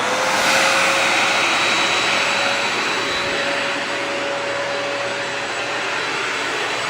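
A Sanitaire SC785 upright vacuum cleaner runs steadily with its brush roll spinning, giving a loud, close, even whine and rushing airflow that holds for several seconds.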